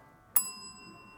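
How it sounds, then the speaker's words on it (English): A single bell is struck once, a bright, sharp ding that rings on with a soft, fading tone, heard faintly in a quiet room. "So you get the bell."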